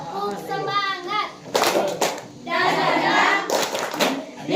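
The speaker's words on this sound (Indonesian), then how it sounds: "Tepuk semangat." A high school class performs a rhythmic spirit clap, sharp bursts of many hands clapping together in a set pattern, alternating with children chanting.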